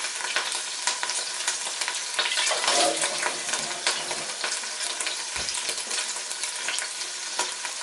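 Water poured into a pot of simmering couscous meat makes a loud, continuous rushing sizzle and bubbling, swelling briefly as the water hits and then settling into a steady hiss with no talking.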